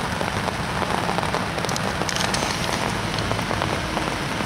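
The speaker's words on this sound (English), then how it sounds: "Hopefully we'll get a little bit of respite in this rain" Steady rain falls at a carp fishing lake, a dense even hiss of drops on surfaces that holds at a constant loud level throughout, with no voices.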